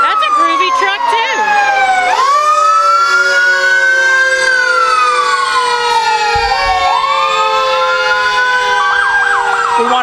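Fire truck sirens from ladder trucks in a Christmas parade in Kingston wail loudly and close, swooping up and down with overlapping tones as the trucks pass.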